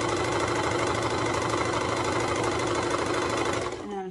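Sewing machine running steadily while stitching the seam of a toddler reversible swimsuit, a continuous close mechanical whir that stops abruptly near the end.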